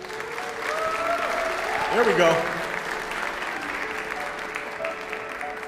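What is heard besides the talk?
applause for the Hill Singers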